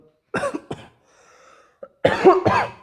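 Two harsh coughs come close together, then a pause, followed by a longer, heavier burst of coughing nearby.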